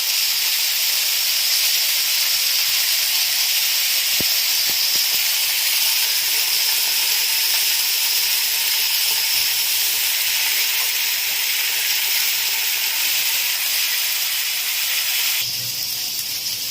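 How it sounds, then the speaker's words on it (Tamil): Chicken pieces fry in oil over a medium flame for a crunchy peanut butter chicken dish, producing a loud, continuous bright sizzle and hiss that holds steady throughout, with a few faint clicks partway in and a brief shift near the end. "நல்லா ப்ரௌன் ஆகிற வரைக்கும் நம்ம இதை ஃப்ரை பண்ண போகிறோம் மீடியம் ஃப்ளேம்லேயே"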